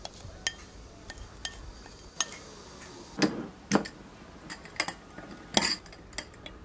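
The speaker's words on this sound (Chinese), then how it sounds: "放到干净无水无油的密封罐里面" Pickled sword beans are spooned into a clean sealed jar, giving scattered light clinks and taps of utensil against container in a quiet kitchen, some close and sharper than others.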